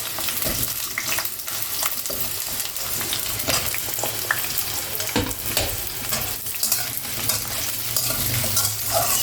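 Potato pieces frying in a pan, a continuous close sizzle broken by repeated scraping and stirring of a spatula against the metal.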